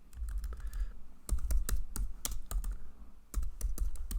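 Close, clicky keystrokes on a computer keyboard come in short irregular bursts with brief pauses, as though entering commands during programming setup. The sound is fairly quiet, with no speech.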